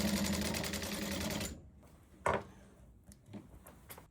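Sewing machine stitching a seam on a quilt coat, a fast, dense mechanical run for about a second and a half, then stopping, followed by faint clicks and handling sounds nearby.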